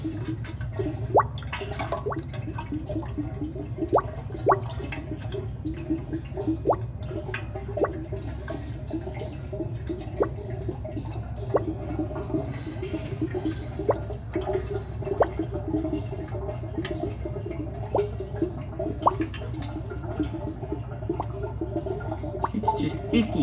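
Oil drains from the engine of a 1966 Mercedes 230SL, with a steady trickling wash broken by frequent small, sharp drips that stay close and moderately loud throughout.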